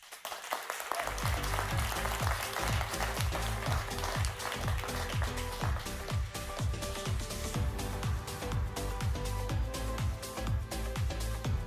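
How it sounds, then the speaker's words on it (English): An audience applauds after a demo at a Bloomberg Screentime opening night program, a steady wash of clapping that lasts throughout and mixes with rhythmic, pulsing music. "Another round of applause for Chris and Runway's Gen Alpha 3"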